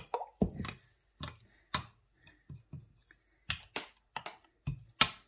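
Chia seeds being dropped and stirred into water, heard as a series of sharp, close plops and ticks spaced irregularly with quiet gaps between them.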